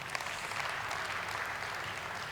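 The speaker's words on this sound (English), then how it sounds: "Now, clap your hands if you could relate to at least one of those 12 reasons why entrepreneurship" An audience at a festival talk claps together, a steady, dense wash of applause from many hands, moderately loud and unbroken.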